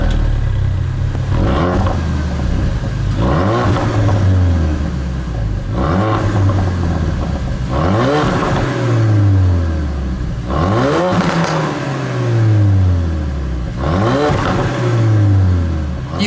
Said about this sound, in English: You've heard then the sound of the raspy standard exhaust.